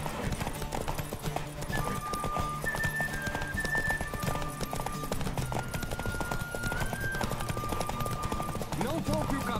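Galloping horse hooves in the video game The Witcher 3, a continuous rhythmic clip-clop under game music, with voices talking over it.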